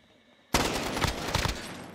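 Sudden burst of rapid automatic gunfire in a Call of Duty Modern Warfare multiplayer match, loud and dense after a quiet start, sustained with jagged rattling peaks and no talk over it.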